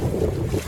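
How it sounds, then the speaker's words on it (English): A small sailboat moves gently along a river estuary with both reefs tied in, a steady low rush of wind and water under the hull filling the short stretch without pause. "Sailing nicely now, just very gently."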